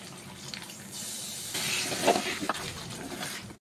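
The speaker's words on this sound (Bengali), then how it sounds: "মশলা থেকে তেল ছেড়ে দিয়েছে, এবার জল দিয়ে দিচ্ছি" Water poured into a pan of fried-down spice paste for a Bengali rohu fish curry (echor/jackfruit resala) gives a steady close hiss and sizzle that swells midway, then settles into a softer bubbling hiss, with no talking.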